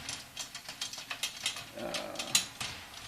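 A snare drum's tension rod is tightened by hand, giving a series of small close ratcheting clicks and scrapes in an uneven rhythm, fairly quiet and with no talk.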